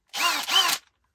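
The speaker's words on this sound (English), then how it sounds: "The drill performance is awesome." A TECCPO cordless drill whirs in two short close bursts, spinning up and easing off with a brief dip between them.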